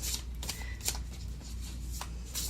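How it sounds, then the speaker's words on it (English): Very thick, stiff tarot cards riffled and shuffled repeatedly, with crisp bursts of flapping and slapping at a steady close range, no voices. "These are kind of hard to shuffle. They're very, very thick cards."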